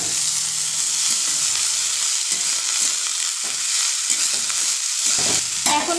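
Shredded cabbage being stirred and fried in a pan, with steady loud sizzling and repeated scraping stir strokes throughout, close up, no voices.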